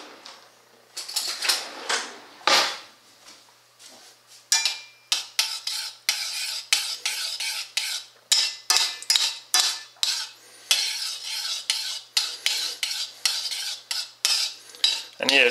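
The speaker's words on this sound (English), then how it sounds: "So I'm going to turn the heat on and then stir this mixture." A utensil stirs a gelatin mixture in a pot over low heat, with repeated metallic scrapes and clinks against the pot in an uneven, busy rhythm, close and fairly loud, with no talking.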